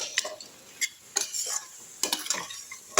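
Fish puttu cooking in a pan with onion, green chili and masala is stirred in short bursts, a soft sizzle broken by several quick scraping and clinking spatula strokes, no speech.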